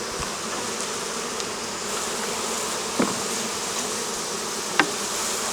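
Honeybees swarm around a hive in a steady, close, dense drone that holds without break, with a couple of faint taps standing out briefly.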